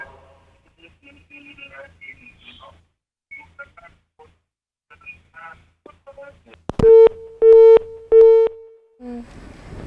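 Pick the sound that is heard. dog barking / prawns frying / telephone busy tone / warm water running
telephone busy tone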